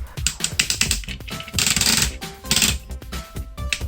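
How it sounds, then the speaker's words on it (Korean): Rapid ratcheting clicks from the shoulder joint of a Tobot V Alpha Plus toy robot being rotated, close and crisp, arriving in quick rhythmic bursts with short pauses between them and no voice. "우선 머리는 고정이고 어깨는 클릭으로 360도 회전을 합니다."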